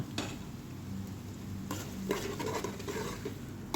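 Finely chopped chillies added to frying onions for kadhi pakora and stirred, a close sizzle broken by scraping spoon strokes and light clinks against the pan.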